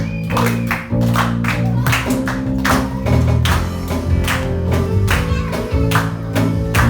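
Rhythmic clapping from a church congregation at a FOG Church Sunday service, with steady beats played over loud band music and singing, dense and continuous all the way through.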